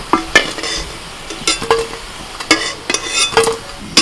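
Soybean kofta frying in oil gives a low sizzle broken by clinks and scrapes of a utensil against the pan, several sharp knocks scattered over a few seconds, close and fairly loud.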